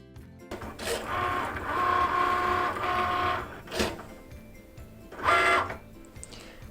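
A Cricut cutting machine cuts faux leather with whirring motor runs and buzzing carriage passes in several short bursts separated by brief pauses, close and moderately quiet.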